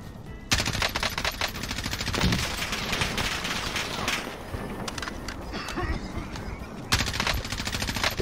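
Sustained automatic gunfire in Warzone, dense rapid bursts nearly continuous throughout, loud and close, with sharper volleys near the start and end and a player talking over it.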